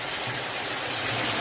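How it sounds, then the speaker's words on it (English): A waterfall near a backpacking campsite, a loud, steady broadband rush of falling water that fills the whole scene without pause. "we're by a waterfall"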